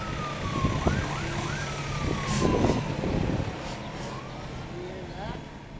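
Ambulance siren wailing on a street in Prince George's County, Maryland, its rising and falling tones passing at moderate distance over traffic noise while people talk nearby.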